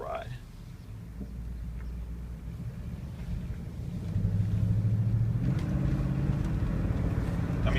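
A 1994 Buick Roadmaster Estate station wagon with the LT1 V8 cruises along, its low, steady engine rumble and road drone heard from inside the cabin, growing slightly louder midway as it picks up pace.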